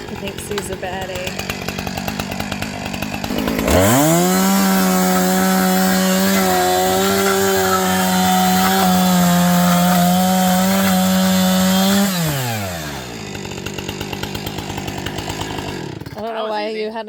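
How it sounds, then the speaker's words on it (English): A chainsaw starts up and revs steadily for about eight seconds while cutting wood to make room for a fence on a small homestead, loud and close, then winds down to idle. "So now I gotta cut this with the chainsaw so we can get the fence through there."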